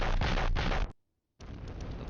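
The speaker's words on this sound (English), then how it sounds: "that was also artillery fire" Dense rumbling barrages of artillery fire in the war game Flashpoint Campaigns: Southern Storm, loud and continuous for nearly a second, then a brief silence before another sustained volley of booming impacts.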